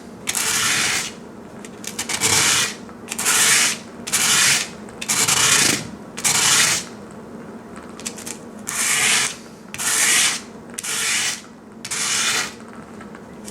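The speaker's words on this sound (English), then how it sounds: "As I sand it, it's easier to get in because the base of it is wider" Repeated bursts of rough sanding on a guitar nut, about ten strokes in a steady back-and-forth rhythm, close and fairly loud with short pauses between.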